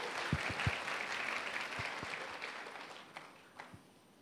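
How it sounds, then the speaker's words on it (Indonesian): A church youth crowd claps for their worship leader at a youth service, a soft, distant wash of applause with a few sharper nearby claps standing out, fading gradually toward the end. "Boleh kasih tepuk tangan dulu buat worship leader kita"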